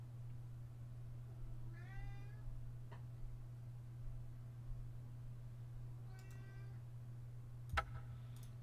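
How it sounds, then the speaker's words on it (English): A cat gives two separate meows a few seconds apart, clear and fairly close, over a low steady electrical hum, with a small click near the end and no talk. "All right, kitty cat, take it easy."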